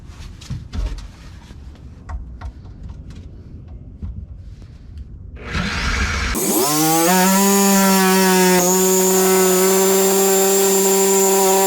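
A Sawzall reciprocating saw cuts through PVC sewer pipe during a GMC motorhome macerator pump installation: a few light handling clicks, then the saw's loud whining motor starts and runs steadily up close.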